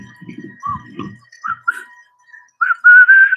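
A person whistles while polishing gems on a wheel during a snowstorm, starting with short, faltering notes over low mumbling, then finishing with a louder, sustained, rising whistle.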